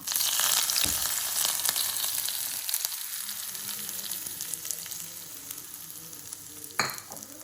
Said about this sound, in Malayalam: കടുക് വറുത്ത് നമുക്ക് അതിലേക്ക് ചേർത്ത് കൊടുക്കുക.